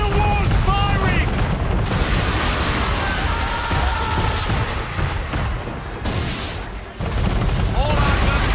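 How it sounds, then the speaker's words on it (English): A man-of-war fires its cannons in Assassin's Creed III, with heavy booming blasts and rumbling explosions over continuous loud battle noise and music, as voices shout over the din. "We're under attack! Man of war's firing!"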